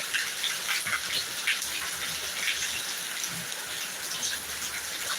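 Steady, dense rain hisses continuously, a heavy downpour in Thiruvananthapuram with no letup and no voices.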